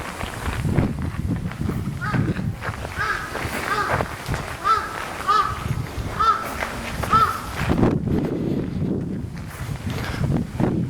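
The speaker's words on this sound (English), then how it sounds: "Crows, or the relatives of the same crows." Crows cawing in a Japanese formal garden in spring, with a series of harsh calls in the middle stretch over a busy outdoor background and voices talking nearby.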